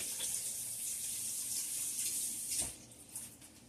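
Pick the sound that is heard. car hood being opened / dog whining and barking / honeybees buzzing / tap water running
tap water running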